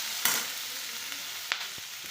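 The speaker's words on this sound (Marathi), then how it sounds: "कांदे ते मी टाकून घेतले, त्यांना व्यवस्थित असं तेलात थोडंसं असं लालसर होईपर्यंत परतून" Onions frying in oil in a kadai give a steady close sizzle, broken by a few sharp clicks and scrapes of stirring.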